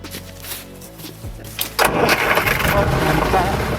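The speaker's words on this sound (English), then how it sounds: "Remember that satisfying click burr of a key starting your car?" A car engine turns over with a key and catches, a burst of broadband rumble that settles into a steady, close idle after a quieter stretch with a voice speaking.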